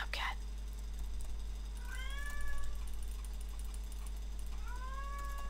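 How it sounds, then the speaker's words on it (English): A house cat meows indoors, giving two drawn-out rising meows a few seconds apart, moderately close and clear, over a steady low electronic hum and quiet background noise. "Oh my goodness, cat. Shut up."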